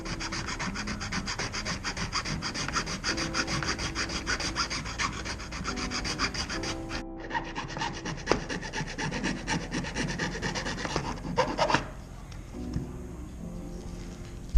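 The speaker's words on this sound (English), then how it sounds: "Just filing it out to make it square" A file rasps back and forth in quick, steady strokes, squaring out a drilled hole in hard material, close and continuous, pausing briefly before resuming.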